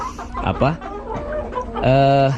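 Chickens clucking in a cramped, overcrowded coop, a close jumble of short clucks and a longer drawn-out call, with someone speaking among them.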